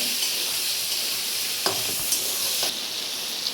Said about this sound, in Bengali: পটলগুলো লাল লাল করে ভাজা হয়ে গেছে